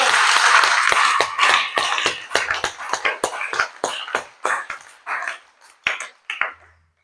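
A church congregation at a Sunday worship service applauds and cheers for the Lord. A dense burst of clapping and voices opens, then thins into loud, separate rhythmic claps that fade in and out.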